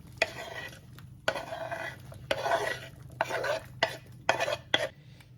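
A large chopped onion is stirred into a cooking pot with repeated scraping utensil strokes against the metal and a light sizzle underneath. The strokes are close and irregular, with no speech.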